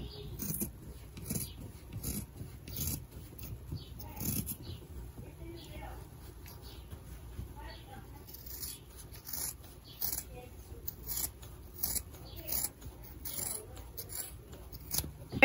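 Scissors cut through fabric for a face mask in a series of short, close snips and rustles, with quiet handling sounds in between.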